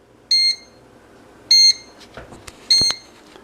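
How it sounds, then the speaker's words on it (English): An Oster 2-pound Expressbake bread maker gives three short, high electronic beeps, signalling time to add raisins, spaced about a second apart, fairly loud and clear over a quiet background. "that's the beep you'll hear when it's time to put the raisins in"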